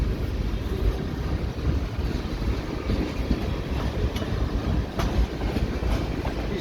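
A northbound CN freight train with three engines rolls through an industrial area in Saint-Laurent, its boxcars and centre-beam cars producing a steady, loud rumble with occasional clicks and clanks from wheels on the rails.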